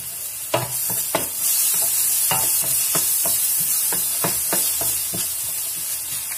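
Calamari and cuttlefish frying in a pan for a seafood paella, with a continuous close sizzle and a regular series of distinct scraping strokes as a utensil stirs them, with no voices.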